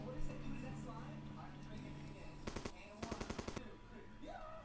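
Two rapid bursts of machine-gun fire from a plane in the video game Simple Planes, sharp and evenly spaced, cutting through a steady engine drone and background game sound.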